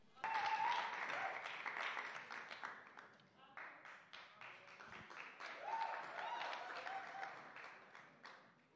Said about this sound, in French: une main d'applaudissement pour la récipiendaire